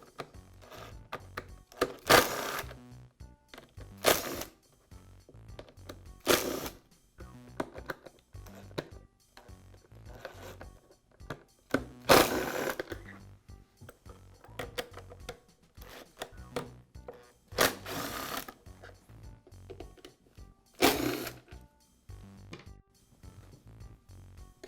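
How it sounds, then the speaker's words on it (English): Screws being backed out of the plastic pump housing halves on a Bostitch air compressor, heard as a series of sharp scraping, clicking bursts at irregular intervals amid quieter handling and rattles, with no talking. "Now remove the screws that secure the 2 halves of the pump housing."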